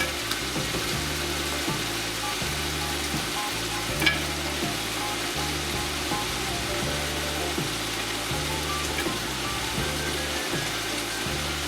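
Chopped onion, about one large onion's worth, frying in a pot for a giant burrito gives a steady, dense sizzle, with a rhythmic low throbbing pulse running underneath throughout.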